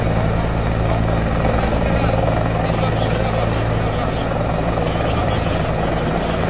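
A military helicopter lifting off makes a loud, continuous rotor thrum and engine roar that stays close and steady throughout, with voices faintly present beneath it.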